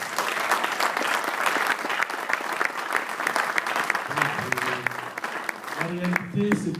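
A church congregation applauding and acclaiming the Lord, with steady dense clapping from a crowd throughout and a voice rising over it near the end.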